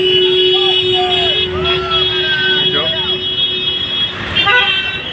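Street traffic by Bidhannagar station in Kolkata as a bus passes: several short horn toots of varied pitch sound over a steady roadway rumble, with faint voices nearby.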